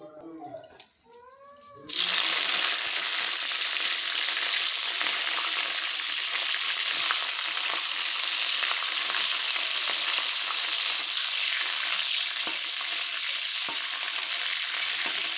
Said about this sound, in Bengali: এখন আগে ফুলকপিগুলো ভেজে নেব।